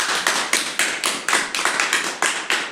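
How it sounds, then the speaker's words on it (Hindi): Audience clapping at a poster launch for a Pahari song, a steady burst of claps with rhythmic pulses roughly every quarter second, fairly close and without speech. "तालियां बजाएं"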